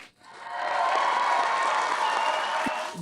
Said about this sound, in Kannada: ನಾನು ಅವ್ರಿಗೆ ದೊಡ್ಡದೊಂದು ಚಪ್ಪಾಳೆ ಬರಲೇಬೇಕು ಅವ್ರಿಗೆ